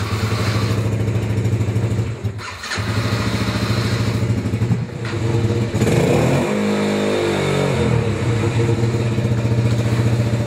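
Cold motorcycle engine idling loudly with a steady rough throb, dipping briefly twice, then revved up with rising and falling pitch before settling back to a lumpy idle, close by.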